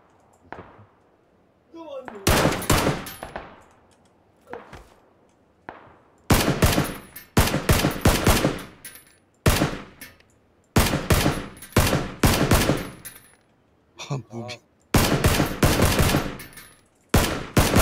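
Repeated bursts of automatic gunfire in a video game, loud and close, coming in short volleys of a second or so separated by brief pauses, with a few single shots between them.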